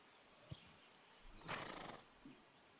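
Horses being readied to leave a broken-down camp: a brief snort or nicker, then a louder breathy whinny of about half a second, followed by a faint low grunt, heard alone with no talk.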